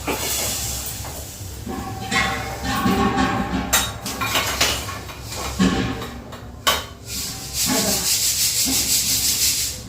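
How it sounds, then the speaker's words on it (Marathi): Steady scraping and rubbing against a new metal bowl as a sticker is peeled off, with occasional light clinks, close up and without speech. "पटापट ही स्टिकर काढून टाकायचे"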